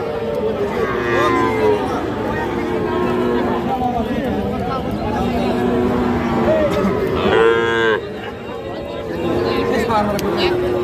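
A bull calf moos loudly at a rural cattle market, the Aftabganj haat, with a drawn-out call near the middle, over steady crowd chatter and nearby voices throughout.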